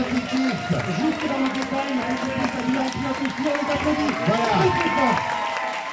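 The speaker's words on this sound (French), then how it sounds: "On les applaudit très fort" Spectators at a soapbox car race in Villardonnel clap and cheer steadily while a voice keeps talking over the applause through a loudspeaker.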